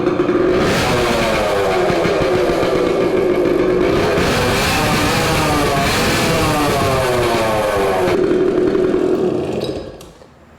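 A Suzuki TC-90 motorcycle runs with its exhaust baffle removed, producing a loud, raspy two-stroke drone that rises and falls through several revs and then cuts off near the end.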